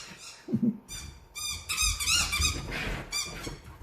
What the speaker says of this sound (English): And you can hear my new puppy Senna enjoying all the squeaky toys that are around this house.